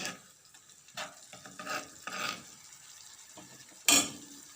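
A spoon stirs tomato sauce in a cooking pot for a spiced fava bean dish, giving a few soft scraping strokes and then one sharp metallic knock against the pot, close and fairly quiet.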